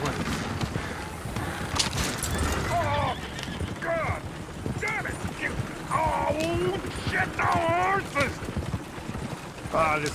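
Horses in Red Dead Redemption 2 clip-clop with steady hoofbeats and let out several sharp neighs and whinnies, close and loud, with voices talking in the mix.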